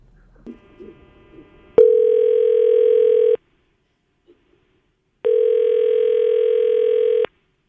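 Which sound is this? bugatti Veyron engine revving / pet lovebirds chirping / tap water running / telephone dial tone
telephone dial tone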